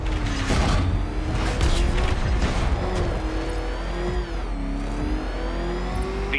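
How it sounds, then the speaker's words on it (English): The Batmobile's engine roars steadily while driving in the video game Batman Arkham Knight, a loud, sustained whine that rises and falls slightly, with mechanical whirring and clatter of the chase. "No, Batman, you can't drive through solid objects"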